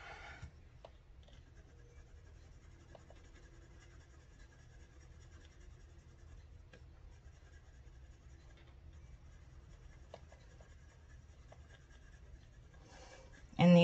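An oil-based colored pencil scratches and rubs steadily across paper, quiet and close, with faint strokes continuing throughout and a brief louder bump at the end.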